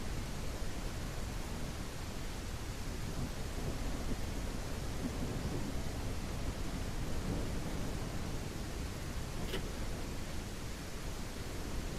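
Rain in the survival video game Everwind falls as a steady, even hiss with low rolling thunder underneath, quiet and unbroken throughout with no voices.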